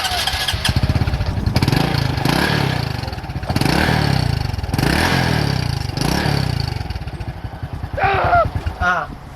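A 125 cc scooter-style motorcycle with leg shields is started gently, its small engine turning over and settling into a steady, close, clattering idle that holds loud and continuous, with a few short chirpy noises near the end.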